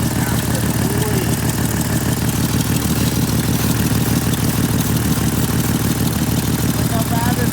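A high-mileage Jeep 4.0 engine idles steadily with leaking exhaust and intake manifold gaskets, a continuous close rumble with fine rapid ticking pulses running unbroken throughout.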